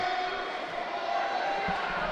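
At a jiu-jitsu black belt open, a crowd murmurs and calls out in disapproval, a diffuse far-off roar of voices under a steady background hum, with a few louder shouts near the end.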